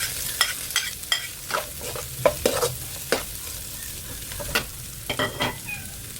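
Onion sautéing in a pan for chicken sotanghon, with a low sizzle broken by repeated sharp scrapes and clacks of a utensil stirring at an uneven pace.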